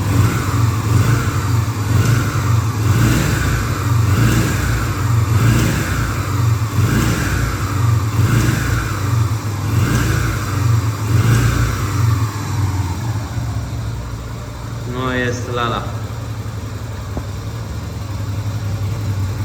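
A 2002 Yamaha XV 125 Virago motorcycle engine revs repeatedly in a steady rhythm, then settles into an even idle, loud and close, with a brief voice near the end.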